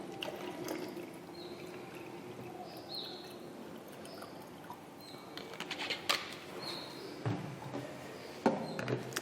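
Water being poured into a bCPAP bottle, faint and close, with a soft trickle that grows into louder splashing bursts toward the end.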